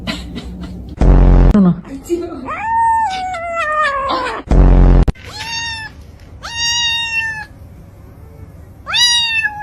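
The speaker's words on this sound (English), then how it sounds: "It's little cats." Small kittens meow in a series of high, rising-and-falling cries, some drawn out and some short, interrupted by two loud bursts of noise, with a person talking over part of it.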